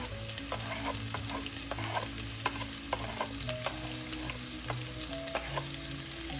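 Onions frying with garlic in a hot oiled pan, a dense, even sizzle with constant stirring scrapes and light clicks of a spoon, close and uninterrupted by talk.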